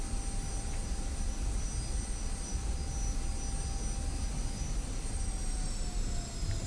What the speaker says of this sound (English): the jet engines of these early jet fighters, they react with a significant delay